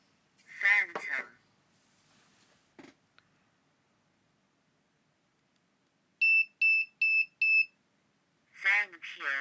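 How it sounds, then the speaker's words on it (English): Four rapid, high-pitched piezo beeps from a DIY Arduino temperature and humidity sensor ring out in an even sequence, with brief speech and a few clicks before and after. "So now it beeps each time temperature or humidity changes."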